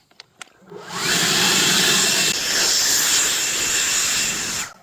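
A Hilti leaf blower blasts strong air in a loud, steady roaring hiss that starts after a couple of soft clicks and holds for several seconds, close and unbroken.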